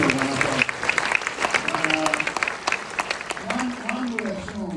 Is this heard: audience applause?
yes